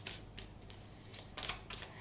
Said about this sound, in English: I will shuffle the cards thrice, split the deck, and have the cards spread for you.